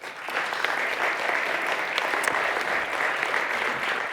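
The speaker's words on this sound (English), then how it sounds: "please give them a warm round of applause" A seminar audience gives a warm round of applause, a steady, even wash of many hands clapping at moderate volume, with no talking over it.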